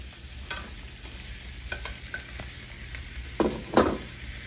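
Food sizzles and crackles in a pan, with a couple of louder bursts as more goes in and a utensil scrapes and stirs.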